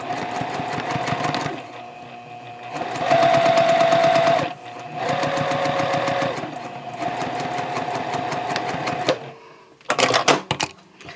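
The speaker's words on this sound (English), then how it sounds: "we're just going to stitch 1/8 of an inch away from that folded edge there" A sewing machine stitches a drawstring casing on a tote bag, running in several steady bursts of rapid stitching with short pauses between them, close and clear with no talking.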